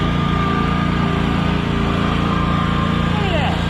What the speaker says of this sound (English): if this lawnmower can't go across this slope